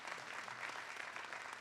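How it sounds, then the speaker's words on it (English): Steady applause at the Dartmouth College 2022 commencement ceremony, a large crowd clapping continuously, fairly distant and even throughout. "you can give him a round of applause."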